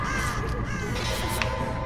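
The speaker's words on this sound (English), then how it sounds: "The pigeons are drawing attention to us." Crows or pigeons caw repeatedly in the Dead by Daylight video game, loud against a dense, steady ambient background with no voices.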